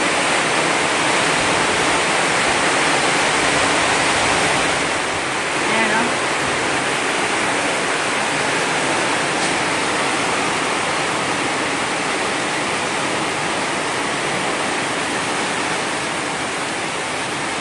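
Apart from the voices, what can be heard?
heavy rain pouring over flooded rice fields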